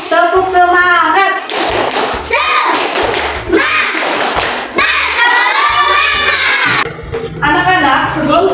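Schoolchildren in a third-grade primary classroom perform a rhythmic clapping chant, loud sharp claps in patterned bursts mixed with their chanting voices, close and energetic.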